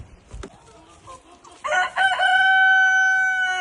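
A rooster crows loudly and close by on a farm raising meat roosters and broilers. Softer clucking and barnyard noise come just before it.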